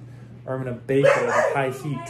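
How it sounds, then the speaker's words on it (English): A dog barks briefly nearby while a person keeps talking over it. "That's my dog."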